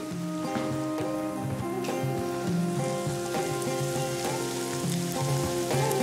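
Onions, garlic and chili frying together in a pan with a little salt and raisins, a dense continuous sizzle and crackle with scattered pops, close and steady throughout; no voices.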